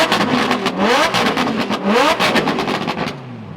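A car engine revs hard and loud to 8,000 RPM, its pitch sweeping up repeatedly through rising, roaring pulls with a crackling exhaust, close by.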